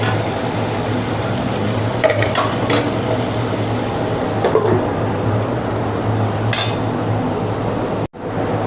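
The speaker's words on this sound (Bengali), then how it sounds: "এটা নেড়ে চেড়ে আমি ঢাকা দিয়ে দিচ্ছি।" Green tomato slices fry in a pan with a loud, continuous sizzle, while a spatula stirs and scrapes in bursts and a lid clanks down near the end.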